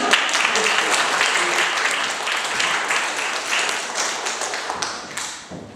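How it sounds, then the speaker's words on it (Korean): Audience clapping hands in a Korean church choir service, a vigorous continuous patter of many hands that gradually softens toward the end. "박수 치면 다 힘차게 칩니다."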